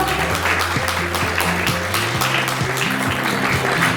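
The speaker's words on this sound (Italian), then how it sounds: "Si meritano un grande applauso." Sustained applause from a crowd at a beauty pageant, continuous clapping with music or tonal sounds running underneath.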